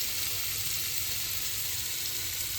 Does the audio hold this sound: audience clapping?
no